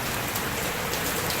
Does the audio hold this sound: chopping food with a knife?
no